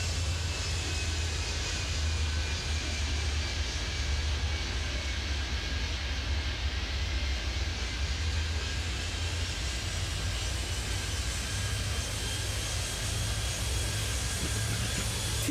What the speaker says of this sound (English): Flight 672, clear for takeoff.